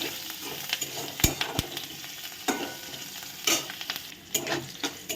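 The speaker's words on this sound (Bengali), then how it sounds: "আমি একটু কোচানো পেঁয়াজ আর 4টে কাঁচা লঙ্কা" Chopped onion and four green chillies fry and sizzle in a pan, with a steady crackle broken by sharp scrapes and clatters as a spoon stirs them close up.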